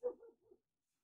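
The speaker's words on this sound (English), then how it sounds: "Very sorry for my dog barking" A single dog gives a short bark followed by a softer second yelp, close and fairly quiet, then silence.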